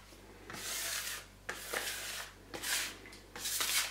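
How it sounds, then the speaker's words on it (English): Scraper pushing excess flour aside across a pizza work surface, four broad rasping strokes with short pauses between them, close and moderately loud, no one speaking. "scrape the excess flour to the side here"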